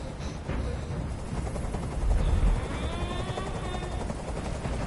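A helicopter's rotor chop and engine drone hold steady and loud throughout, with a heavier low-end thump swelling briefly in the middle.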